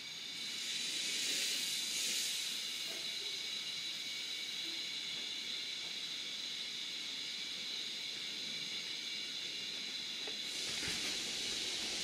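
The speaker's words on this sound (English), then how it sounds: "You can already hear the air getting into them." Compressed air hisses steadily through sprinkler irrigation lines while a zone is being blown out for winterizing, a continuous moderate rushing sound with slight surges at the start and end.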